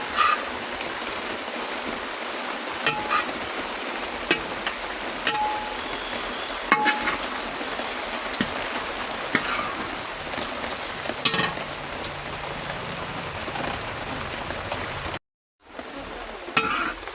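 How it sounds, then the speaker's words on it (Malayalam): Grated coconut frying with onion, ginger, curry leaves and garlic in a large batch for chammanthi podi, giving a steady, dense sizzle with continuous scraping and stirring, close and loud, with no voices. "അതിൻ്റെ പുറത്ത് തേങ്ങ ഇട്ടു. ഇളക്കൊണ്ടിരിക്കുകയാണ്."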